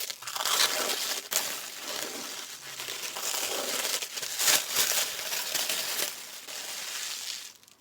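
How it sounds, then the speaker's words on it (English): Plastic wrap and packaging on a special customised Xbox Series X console crinkle and crush in bursts of close, crackling rustling that come and go with brief pauses, with no talking. "Now let's unwrap our console."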